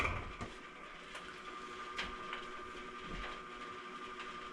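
Honey extractor spinning frames at a steady 50 RPM, a low, even mechanical whir with steady tonal hum and occasional faint clunks and rattles, fairly quiet and with no voices.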